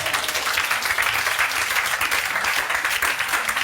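A church congregation applauds in a steady, moderately loud patter of many hands clapping together, lasting a few seconds without a break.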